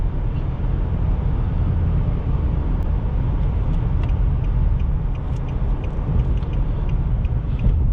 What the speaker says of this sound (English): that's just a wind noise